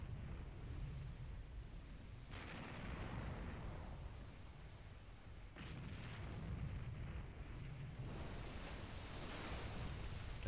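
Naval gunfire volleys in the Jutland naval game, two deep, rumbling booms of shell salvos that roll out and fade, over a low continuous sea-like wash.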